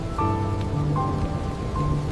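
Steady cartoon-style rain falls on a village scene under dark clouds, a continuous patter and hiss with no voices, joined by faint tonal layers from the soundtrack.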